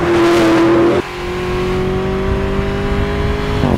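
Wiesmann GT MF5 with a BMW M5-derived 4.4-litre turbo V8, heard up close under acceleration with a strong steady engine tone, a sharp gear change about a second in, then a long rising pull.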